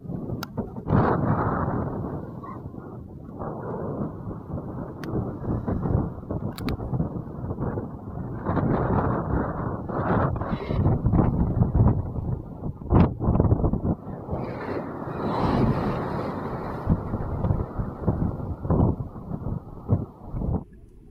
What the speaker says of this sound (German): Wind und Welle haben zugenommen.